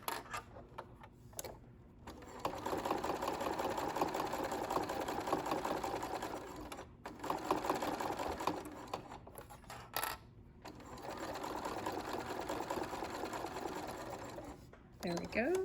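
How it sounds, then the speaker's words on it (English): A sewing machine stitches a zipper pull strip on a handmade zipper pouch, running in long steady bursts of rapid needle clatter with short pauses between them and occasional soft mechanical clicks. "I moved my needle over as close as I could to the edge so that I could sew right along and close up"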